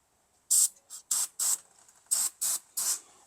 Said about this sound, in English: we're just gonna spray this down